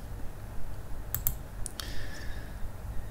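A few faint, sharp computer mouse clicks in a software interface, spaced irregularly over a low background hum.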